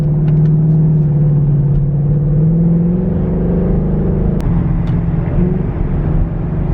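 Loud car engine with a deep, steady rumbling idle and slight rev swells, heard close and continuous throughout, with no voices.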